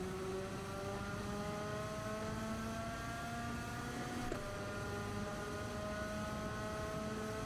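Racing cars in a sim racing video game: a steady, droning engine whine with layered tones slowly climbing in pitch, briefly dipping partway through, continuous and moderately loud with no talking.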